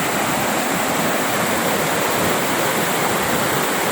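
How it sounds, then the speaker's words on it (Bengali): Fast-flowing river water at Jhalong village picnic spot, a steady, loud, unbroken rush of churning water heard close by with no voices. "রূপটা দেখুন, কি স্পিডে জল যাচ্ছে"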